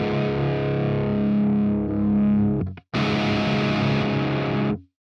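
An electric guitar with a heavy distorted tone plays a cover of a song: a thick sustained chord rings, cuts briefly, then another distorted chord is struck and held before stopping, close and alone.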